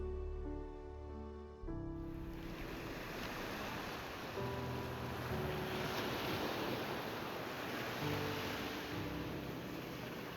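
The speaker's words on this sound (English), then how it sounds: "near the cliff edge, the roar of the sea makes this place feel almost too strange to be real" Sea waves roar near a cliff edge in a continuous broad wash of surf mixed with wind rumbling on the microphone, loud and unbroken after a brief quieter opening.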